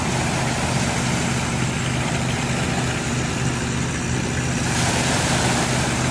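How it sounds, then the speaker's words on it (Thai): A steady low engine drone, loud and continuous, from a sand dredging boat's motor running nearby in a canal. "เป็นเรือขุดลอกทรายครับ"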